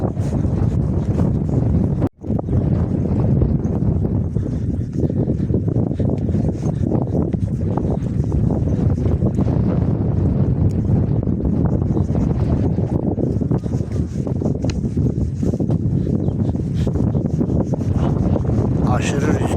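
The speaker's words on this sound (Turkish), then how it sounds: "Videoda arkadaşlar rüzgar sesi gelebilir kusura bakmayın." Steady, loud wind buffeting the microphone for the whole stretch, a dense low rumble with one brief dropout near the start.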